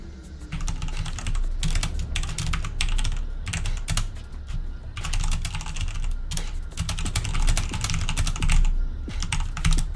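Steady rapid typing on a computer keyboard while entering a command during a Halo 2 Legendary challenge stream, with clicks clustered in dense bursts and brief pauses, loud and close throughout, with no talk.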